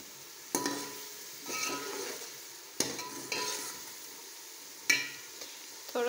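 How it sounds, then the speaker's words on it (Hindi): Spices with salt and red chili fry in a pan for beef pulao, a quiet sizzle broken by several distinct scraping stirs of a spoon against the pan, about four strokes spaced a second or more apart. "मसाले को अच्छी तरह से भून लेंगे।"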